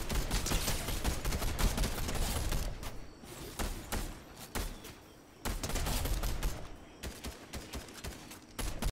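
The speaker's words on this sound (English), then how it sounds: "I hear shooting in this direction." Sustained gunfire in the video game Fortnite, dense rapid bursts of shots rattling almost continuously with brief gaps, moderately distant and without talking.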